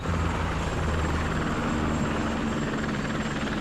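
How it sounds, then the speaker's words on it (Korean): A helicopter flies overhead, its rotor throbbing in a steady, fairly loud drone that holds for the whole stretch, with no voices. "하늘을 나는 헬기 소리"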